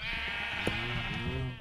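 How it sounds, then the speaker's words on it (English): Sheep bleating in Minecraft, one drawn-out wavering bleat that sits clear and close, followed by a softer overlapping call, with no talk over it. "I'm just gonna go fix this little spot over here. Where the sheep are."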